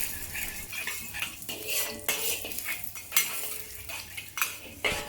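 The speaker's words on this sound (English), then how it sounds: "Heat some oil in a pan, then throw in about 4 to 5 thin slices of ginger. Stir fry the ginger until aromatic." Thin ginger slices being stir-fried in hot oil in a pan, with a utensil scraping and clinking against the metal in irregular strokes, close and fairly loud, under a faint sizzle.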